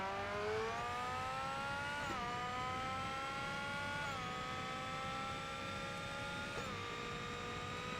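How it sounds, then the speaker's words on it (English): Audi R8 TDI in Forza Motorsport holds a steady, loud engine drone throughout, with pitch climbing through gears and three brief dips at shifts, alone with no talk. "What car is this? Audi R8 TDI."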